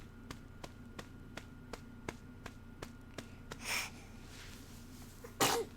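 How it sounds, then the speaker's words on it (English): One sharp, sudden sneeze near the end, preceded by a softer breathy gasp, over a steady run of faint ticking taps. "you had to sneeze on me"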